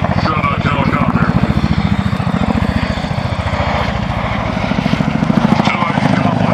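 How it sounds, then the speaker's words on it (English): A CH-47 Chinook helicopter flying at the Selfridge ANGB airshow, its loud, rapid rotor thump pulsing steadily and close throughout, with a voice talking over the noise. "And this aircraft, the CH-47 Chinook helicopter."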